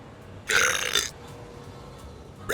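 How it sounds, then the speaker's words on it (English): A cat burping, one loud close rasping belch lasting about half a second, followed by quiet room noise with no talk. "Burps."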